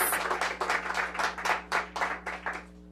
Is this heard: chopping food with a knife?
no